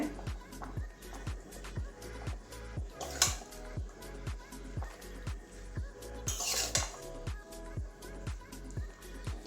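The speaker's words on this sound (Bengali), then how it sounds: "খুন্তি দিয়ে নাড়িয়ে দিচ্ছি" Spatula stirring shrimp and bottle gourd curry in a pot, a steady run of scraping, clinking strokes close by, repeated in a quick rhythm with no talking.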